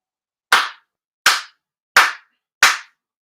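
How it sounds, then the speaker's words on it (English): Four sharp, single hand claps at a Shinto-style prayer service ring out loud and close, evenly spaced about three-quarters of a second apart, with silence between them and no voices. "four sincere claps"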